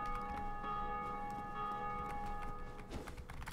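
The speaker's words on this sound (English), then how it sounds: "There's a bell tower nearby." A church bell in a bell tower in the video game Dark Souls tolls faintly with a sustained ringing tone, set among soft clanks and ambient game noise.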